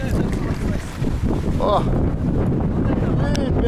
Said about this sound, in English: Wow, the weather here is insane. Windy as hell.